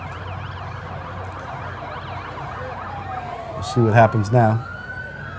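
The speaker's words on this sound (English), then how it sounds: "And now I hear the sirens." Police sirens wail at a parade behind a color guard, a steady rising and falling tone throughout with louder close bursts near the end; someone speaks over it.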